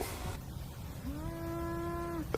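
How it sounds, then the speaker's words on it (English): A cow gives a single drawn-out moo, heard fairly faint against a steady low background hum, lasting about a second before stopping. "That cow is way louder"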